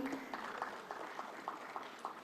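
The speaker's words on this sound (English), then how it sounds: "Kindly keep the applause going." Moderate applause from a seated audience at a technical conference session, a soft continuous patter of clapping with a few distinct claps standing out at a steady pace, somewhat distant and fairly quiet.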